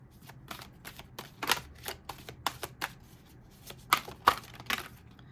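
Tarot cards shuffled by hand in a quiet room, a run of crisp riffling flicks and soft slaps at an uneven pace, close and fairly clear with no talking.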